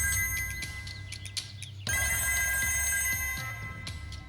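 Telephone bell ringing indoors in a Tamil TV drama, loud repeated electronic rings with a brief gap and a bright high-pitched tone, alone with no talk.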